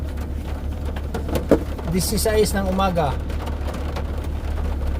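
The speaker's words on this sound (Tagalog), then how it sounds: "Ang lakas ng ulan." Steady rainfall with a low rumbling drone runs throughout while a person talks briefly over it.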